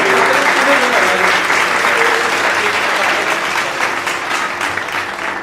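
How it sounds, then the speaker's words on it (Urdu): Loud, dense applause from an audience at a Salvation Army church community awareness program, sustained steadily throughout with only a slight fade toward the end. "زوردار تالیاں جیکب جاوید صاحب کے لیے"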